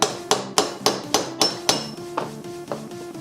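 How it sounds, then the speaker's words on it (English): A hammer drives a chisel-set punch against a cotter pin during pivot shaft seal work, producing about ten sharp metallic strikes spaced roughly a third of a second apart, close and ringing, fading slightly toward the end. "I'm gonna use one that's just one size up in my chisel set to punch this cotter pin out."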